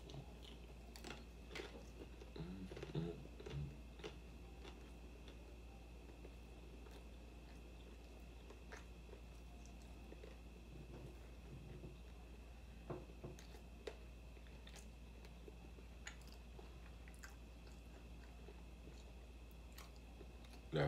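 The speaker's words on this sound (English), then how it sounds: "That fried taco shell crunch." Someone eats a fried taco shell, with scattered faint crunches and chewing clicks spread across a long stretch over a steady low hum and no talking.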